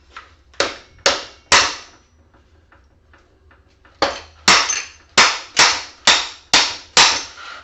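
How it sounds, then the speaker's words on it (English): A ball peen hammer strikes parts of a Karcher pressure washer being scrapped, sharp metallic-plastic blows in two groups, three quick hits, a quiet gap, then about seven evenly spaced strikes, loud and close. "Time for an hammer. I have my ball peen hammer."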